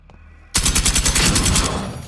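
Rapid automatic gunfire in the video game Generation Zero starts suddenly after a quiet moment, a loud, fast burst of shots that runs for over a second and a half.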